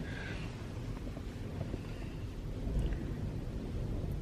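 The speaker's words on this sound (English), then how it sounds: "Windy and wet." Steady wind roars and rain falls outdoors on the Isle of Skye, a continuous low rumbling wash with no breaks and no voices.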